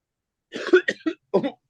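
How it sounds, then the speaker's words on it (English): A short, close burst of dry coughing, several quick hacks in a row after a brief silence. "Be prepared to cough a little bit here."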